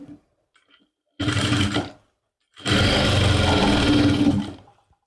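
A sewing machine stitches a lining suit in two bursts, a short run followed after a pause by a longer, steady loud whirring stretch, close up and with no talk.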